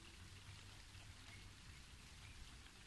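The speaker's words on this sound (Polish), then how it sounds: "I się rozpadało." Quiet, steady rain patters on a surface, a soft continuous hiss with no voices.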